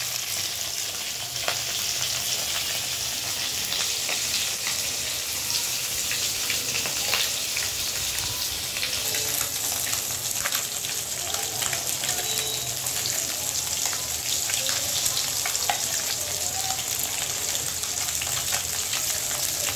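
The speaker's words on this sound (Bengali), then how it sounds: "জিয়াল মাছগুলো ভেজে নিচ্ছি।" Jiyal fish, or stinging catfish, frying in a pan with a steady, loud oil sizzle that crackles and pops throughout, with no talking.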